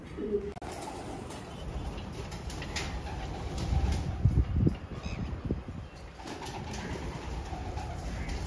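Pigeons of a Kolkata line cooing in low, soft repeated calls, somewhat distant, over a steady background hum with a brief flutter of activity midway.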